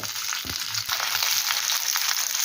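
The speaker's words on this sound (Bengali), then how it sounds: "এখন দেবো ক্যাপসিকাম আর পেঁয়াজ পেঁয়াজ ক্যাপসিকাম আবার প্রায় এক থেকে দেড় মিনিট সময় নিয়ে ভেজে দেবো" Onion and capsicum fry in a pan with garlic for chilli cauliflower, a bright, loud continuous sizzle with a couple of low knocks from the spatula early on and no speech.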